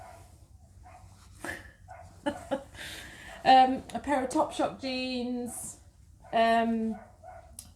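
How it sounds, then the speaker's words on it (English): A neighbour's dog barks and whimpers in a series of sharp, fairly close barks with yelping tones over a few seconds, while someone talks indoors. "That's my neighbour's dog."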